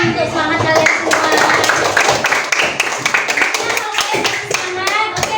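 A classroom of children finishes a spirit clap, quick rhythmic hand claps at close range, with a voice talking over the clapping.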